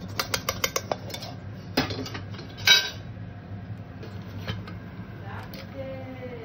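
Mutton is spooned from a metal kadai into a pressure cooker, producing a cluster of sharp metallic clinks and scrapes followed by lighter taps, while someone talks nearby.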